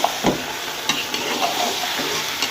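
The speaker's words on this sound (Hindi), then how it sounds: "इसमें मैं गोश्त जो है वो अपना डाल दूँगी और इसे हम लोग 5 मिनट के लिए ज़रूर कुक करेंगे" Beef pieces sizzling and frying in a pot for white biryani, with short scraping stir strokes over a steady hiss, close and fairly loud.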